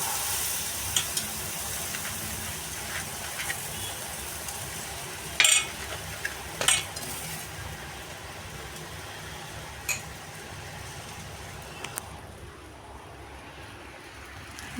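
Bread with butter frying on a hot tawa griddle, giving a steady low sizzle throughout with a few brief utensil clicks and taps near the middle.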